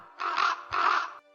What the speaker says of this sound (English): I've unfortunately only got ravens on my soundboard at the moment, and barn owls.